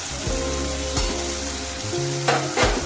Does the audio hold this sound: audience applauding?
no